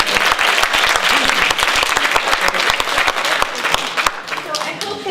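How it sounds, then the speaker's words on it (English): Loud audience applause at a political retreat, a thick roar of many hands with crisp close claps cutting through, and voices calling out underneath before it thins toward the end. "Can we give some of those folks a round of applause?"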